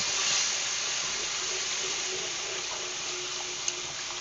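Chicken broth poured into a hot skillet to deglaze it after chicken and mushrooms, a loud steady sizzling hiss of steam up close that eases slightly, with no talking.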